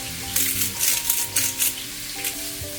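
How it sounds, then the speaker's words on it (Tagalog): Vegetables and fish sautéing in a hot pan with pepper and salt, a steady sizzle with bursts of stirring and scraping every half second or so, close and fairly loud, no talk. "gisa-gisa muna natin."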